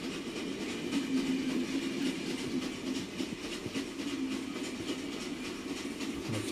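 A train rolls along in the video game The Final Station with a steady, rumbling clatter and faint rhythmic clicking that holds at an even level throughout, with no voices.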